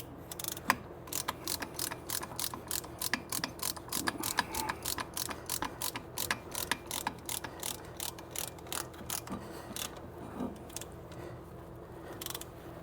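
A brake caliper piston compressor tool is cranked by hand during front brake work on a 2012 Ford Fusion, making rapid, evenly spaced ratcheting clicks close up for the whole stretch.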